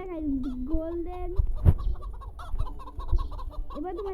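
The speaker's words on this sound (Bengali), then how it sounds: "গোল্ডেন মুরগি ডিম চুরি করা গোল্ডেন মুরগির আমি ডিম চুরি করছি" Cartoonish golden chicken clucks and squawks in quick bursts, with a few thumps and electronic effects, like game sound effects, during egg stealing in a video game.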